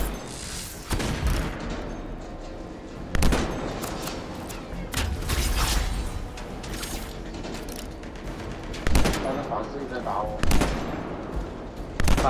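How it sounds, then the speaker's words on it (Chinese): Sniper rifle shots from the video game Anthem, a handful of sharp loud cracks spaced several seconds apart over a busy bed of game effects and background noise. "我用狙，哎，我试试用狙打一会儿先。"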